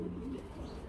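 Lotan pigeons kept for sale with their eggs give a short, low, steady cooing murmur up close, continuous for under a second.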